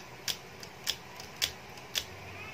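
Four sharp mechanical clicks repeat at an even pace, close and crisp, a Canon 514 XLS camera's shutter pressed over and over in a quiet room.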